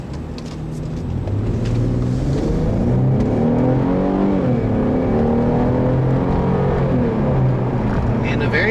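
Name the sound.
Infiniti M35x V6 engine exhaust while driving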